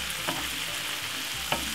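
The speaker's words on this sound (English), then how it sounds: "So as you can see, it's frying lovely and nice." Garlic prawns frying in butter with thyme give a steady, close sizzle throughout, with a few soft stirring scrapes breaking through; no voices are heard.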